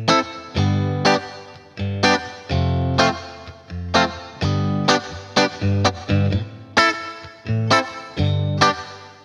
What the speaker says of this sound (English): the hall reverb gets its name because it's emulating the sound of a hall